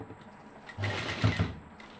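A sewing machine runs in two short bursts of stitching while a zip is sewn onto a top, with a quiet pause before it starts; no one speaks.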